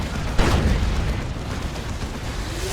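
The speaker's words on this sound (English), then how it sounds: "There's the Demolisher Cannon and just teleport away from it." A Demolisher Cannon on a Baneblade fires in Dawn of War 2, a single loud booming blast near the start that rolls off into a rumbling tail of game battle noise.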